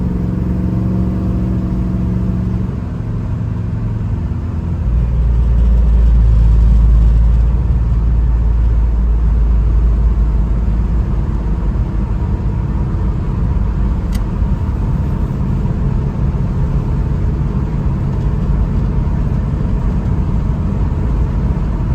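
A 1972 Chevrolet Nova SS with a numbers-matching engine drives through traffic in Paris, Kentucky, its steady engine drone and road rumble swelling briefly as it accelerates, then settling into a constant cruise.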